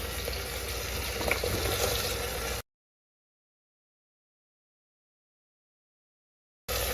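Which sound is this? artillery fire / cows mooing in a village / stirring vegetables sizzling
stirring vegetables sizzling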